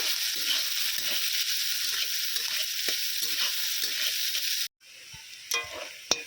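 Onions fry until browned in a pan, a steady loud sizzle with rhythmic stirring scrapes that cuts out near the end, followed by a few quieter clinks and knocks.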